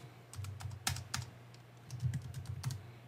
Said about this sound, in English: I'm going to type in the names that I want to personalize on these cute Freezy Pop sleeves.